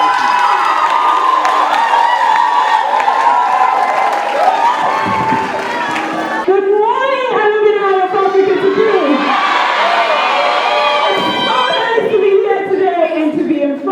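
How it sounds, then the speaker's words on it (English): Crowd at an alumni day gathering of over 600 people cheering and shouting loudly, with whoops and raised voices swelling over scattered applause throughout. "Ladies and gentlemen, a round of applause."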